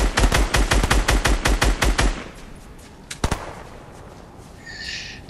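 Automatic gunfire in the video game Fortnite, a rapid burst of about a dozen sharp shots over two seconds, followed by a lone shot and quieter background game sounds.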